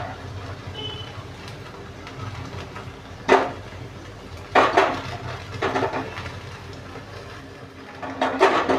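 Prawns being cooked for tandoori prawns on a stovetop are turned in a pan with a spatula, giving several distinct metallic scrapes and clatters over a low sizzle, close by and with no voices.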